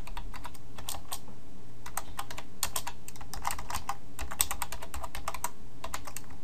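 Rapid typing on a computer keyboard, dense clusters of sharp key clicks with short pauses between bursts. The clicks are close and heard alone.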